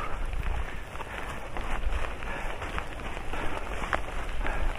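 Heavy rain in a storm at night on a solo mountain hike up Gunung Buthak via Panderman, a dense continuous patter of drops hitting a nearby surface with gusts of wind, loud and close with no voices.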